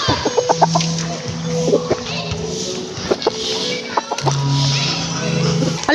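A gamecock clucks close by in short repeated bursts while people talk over it and steady outdoor background noise runs underneath.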